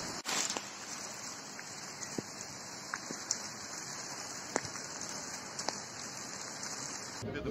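Steady heavy tropical downpour in Kerch, a dense continuous hiss with occasional sharper drips and splashes standing out close by.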